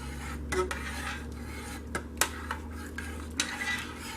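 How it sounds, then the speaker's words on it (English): A spoon stirs a heated homemade liquid dish soap solution in a pot, giving a continuous rasping scrape broken by sharp clinks and taps against the sides, close up over a low steady hum. "So I just sit here and stir till it comes down"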